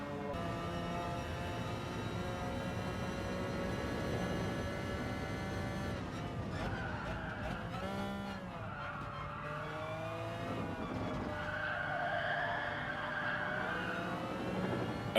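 Racing in GT Sport, a Honda race car slams into a wall as engines roar and tires squeal and skid, the sustained engine drone shifting with scraping and screeching for several seconds, no voices.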